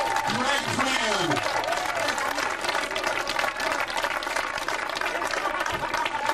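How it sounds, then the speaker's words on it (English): Applause and cheering from a crowd at a road race awards ceremony, continuous dense clapping under a voice talking over it, steady and fairly loud throughout. "a round of applause for our next Masters record holder, Greg Cram"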